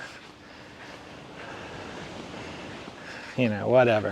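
Ocean waves wash onto a beach in Kuantan, Malaysia as a steady broadband surf wash with wind, fairly close and continuous, before a person starts talking over it near the end.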